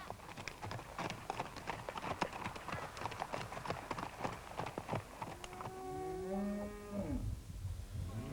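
Cattle mustered on an open-range station: dense overlapping hoof clatter and scattered lowing from a moving herd, then a few long, loud moos close by near the end.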